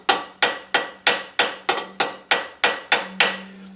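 A nylon hammer taps a tin toy nine times in a steady rhythm, each hit a sharp, ringing metallic knock that decays quickly. Close and fairly loud.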